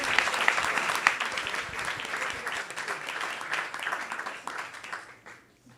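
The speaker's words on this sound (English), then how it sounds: "let's give us a round of applause for them." A crowd applauds steadily at a Vyasa-puja celebration, dense, sustained clapping that fades out near the end.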